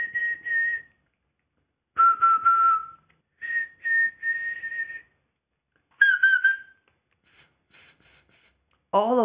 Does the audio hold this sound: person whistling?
yes